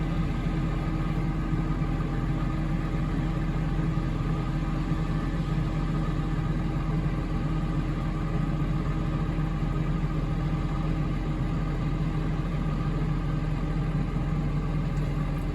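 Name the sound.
Claas Lexion 7600 combine harvester engine while cutting wheat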